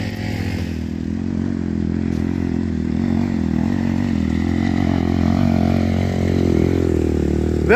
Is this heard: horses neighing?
no